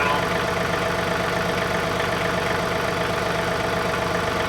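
A John Deere 3039R compact tractor engine idles steadily and close by, a continuous low mechanical rumble with even pulsing and no speech.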